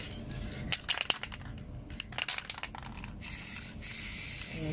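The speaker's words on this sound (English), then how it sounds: "I'm just going to spray this centre." An aerosol can hisses in several short bursts with clicks and rattles between them, then one long steady spray to the end, close by.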